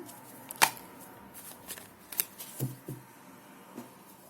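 Tarot cards are shuffled and flicked in a few short bursts, with soft papery riffles and taps in a quiet room.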